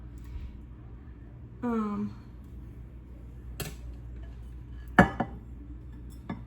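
Dishes and a bowl are handled in a home kitchen, with a few sharp clinks and knocks spread across the moment, close by against a quiet room; a brief voice-like tone sounds near the start.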